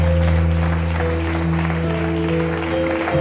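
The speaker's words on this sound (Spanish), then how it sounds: "Puedes darle un aplauso a tu Dios fuerte" A crowd claps at an outdoor street preaching in a plaza, a loud sustained burst of applause lasting a few seconds over a steady low hum.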